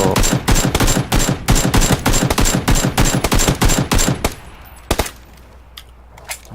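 Rapid automatic gunfire from PUBG: Battlegrounds, a loud, close burst of dense shots for about four seconds, then a couple of isolated single shots over a quieter background.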